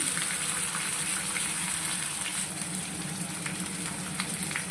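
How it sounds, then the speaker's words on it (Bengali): Spices with ginger paste, chilli paste and salt sautéing in a pan over low heat, a steady gentle sizzle and hiss with occasional faint crackles, close and even throughout. "এইভাবে একটুখানি কষানোর পর পাঁচ সাত মিনিট এইভাবে খুব হালকা আঁচে কষাবেন"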